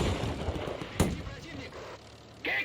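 World War II battle in Men of War II, with a sharp close gunshot or cannon blast standing out above a rumbling backdrop of distant artillery and scattered fire, and a voice shouting briefly near the end.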